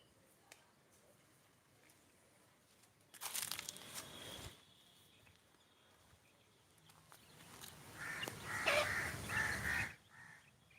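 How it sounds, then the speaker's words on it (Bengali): Harsh crow-like caws burst out in a loud cluster, then a longer stretch of scratchy, crinkly bird calls rises and fades against quiet background. "দেখতে পাচ্ছেন পাখিগুলো কত সুন্দর করে ডাকাডাকি করে"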